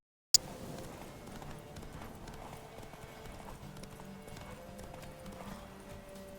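A horse galloping in The Witcher 3 video game, steady rapid clip-clop hoofbeats at moderate volume after a sharp onset, with no talk over them.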